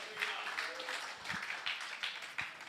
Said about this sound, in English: You that are clapping, praise God.